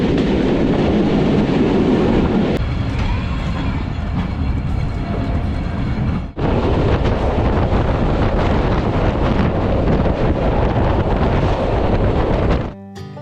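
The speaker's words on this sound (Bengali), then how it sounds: "আমাদের ট্রেন এই মুহূর্তে প্রবেশ করছে শীতলাই রেলওয়ে স্টেশন" The Dhalarchar Express rolls into Sitlai railway station with a steady, loud rumble of wheels and carriages and strong wind rushing past the microphone, no voices present.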